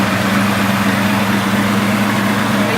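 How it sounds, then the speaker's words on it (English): A Mopar car engine idles steadily and loudly up close, a constant low rumbling drone with an even hum and no change in pace. "We're going to have a start up the engine just so you can hear it."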